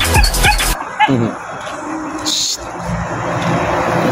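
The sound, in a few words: excited dog whimpering and yipping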